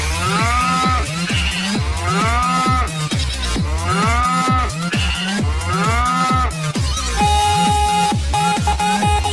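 A cow mooing over and over, its long drawn-out lows repeating in a steady rhythm set into a loud, pounding Qurbani DJ dance song, with a beeping synth line near the end.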